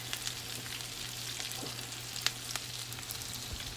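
Potato cakes sizzling in hot oil in a pan, a steady close crackle with scattered pops and a faint low hum underneath, no talking.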